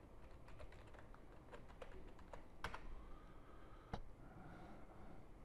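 Fingers tap out a password on a computer keyboard in quick, irregular keystrokes with a couple of louder key hits, close up and quiet, with no talk.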